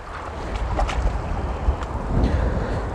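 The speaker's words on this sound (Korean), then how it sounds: "진짜 바람 많이 불어요" Strong gusting wind at night on the Korean seashore buffets the microphone, a loud, steady rushing roar with low rumbling bursts throughout.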